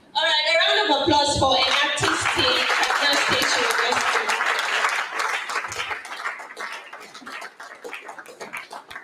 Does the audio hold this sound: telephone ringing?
no